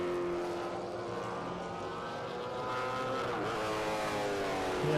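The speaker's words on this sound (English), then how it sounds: "Here comes the leader down to G&H Transport Corner in a V8 supercar" V8 Supercar race cars drive on a circuit toward a corner, their engines roaring loudly and continuously with shifting pitch as they pass close by, with no talk.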